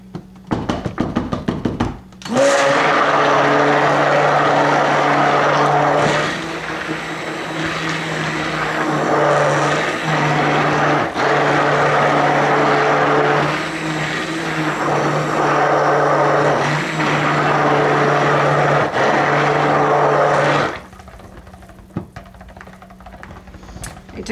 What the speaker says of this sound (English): I'm gonna blend this a little more